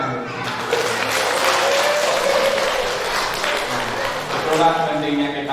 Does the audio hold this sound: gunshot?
no